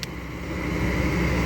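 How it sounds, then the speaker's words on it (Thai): Kobelco SK200-10SM excavator engine revving up, a steady low rumble building in loudness over a second and a half, close by and without talk. "เร่งเครื่อง"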